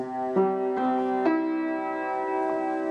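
A piano in C plays a four-note 1-5-1-3 run, C up to G, back to C, then E, each note struck cleanly in turn and the last left ringing.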